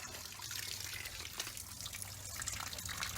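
Water bubbles and gurgles continuously in the engine water jackets of a turbocharged Honda B18C1, with a hissy, trickling texture, fairly close, with a low hum underneath.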